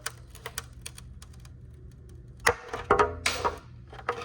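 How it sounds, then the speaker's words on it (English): Snips trimming plastic nubs off an MK6R headlight housing, heard as faint scattered ticks followed by a handful of sharper, closer clicking cuts in quick succession. "I literally just have a pair of snips. I'm gonna come in here, just trim them out."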